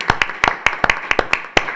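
A few people at a book launch clap in short, uneven bursts, roughly a dozen distinct, close hand claps with small gaps between them.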